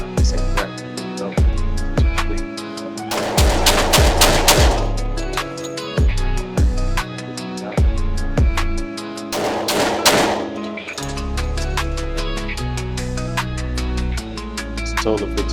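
Glock pistol shots at a shooting range, 10mm Glock 20 and Glock 19, sharp loud reports fired in quick strings with pauses between, close and echoing, with talk in between.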